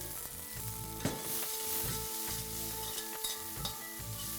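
Fenugreek leaves roast in ghee for a methi matar kadhi, crackling and sizzling steadily up close with soft stirring scrapes and no talk.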